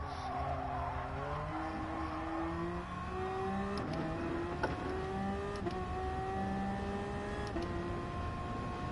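A car engine revs repeatedly, its pitch climbing and dropping in steady sweeps with gear-like steps, heard at moderate distance over steady background noise.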